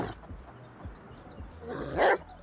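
Dogs barking in a hardcore-mode survival video game, a few gruff barks at a distance over a noisy rumbling background, with one louder burst near the end.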